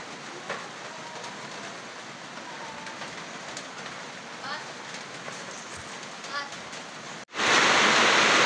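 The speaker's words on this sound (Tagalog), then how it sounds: "Lumakas yung ulan" Steady rain pours down, then suddenly grows much heavier and louder near the end, with faint voices in the background.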